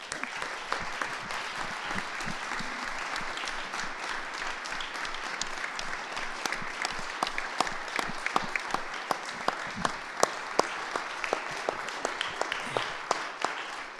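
Members of the Kansas Senate applaud in the chamber to honor Miss Teen USA, a sustained, moderately quiet round of clapping with distinct sharp individual claps standing out across fourteen seconds.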